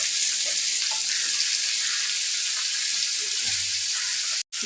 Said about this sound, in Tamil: நாங்கள் வெங்காயத்தை போடுவோம்.